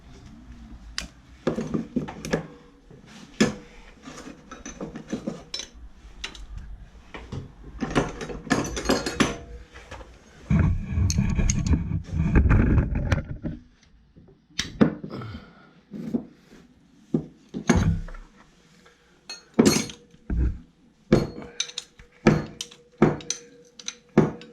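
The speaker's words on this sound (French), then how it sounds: "on va avoir 3 vis à retirer sur le coupleur" Tools work on screws at the torque converter of a Citroën C8 V6 3.0 automatic gearbox, giving scattered metallic clicks, ratchet ticks and knocks with one longer burst of clattering in the middle, close and without speech.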